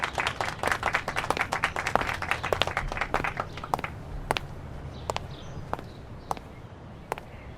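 Applause for a wrestler: a crowd claps loudly and densely at first, then thins into scattered sharp single claps that trail off toward the end, with no talk.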